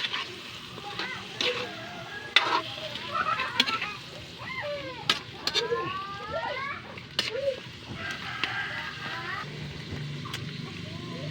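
Food frying in a pan as it is stirred, with steady sizzling and intermittent scraping and clatter from the stirring, heard close up while a voice talks over it.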